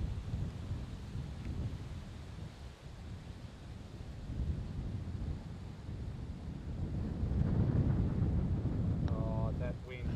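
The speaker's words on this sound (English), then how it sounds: "Oh, that wind." Strong wind gusts buffet the microphone on a golf course at Caboolture Golf Club, a steady low roar that swells louder toward the end, with no talking.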